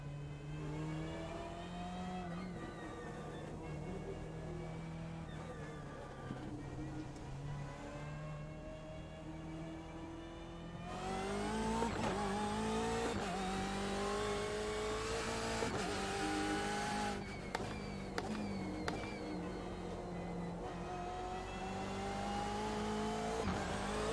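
Daytona GTE race car on track, its engine revving hard through repeated rising gear pulls and downshifts, a continuous close onboard roar with brief blips and surges of acceleration.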